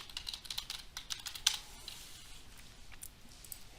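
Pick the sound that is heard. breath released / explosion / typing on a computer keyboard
typing on a computer keyboard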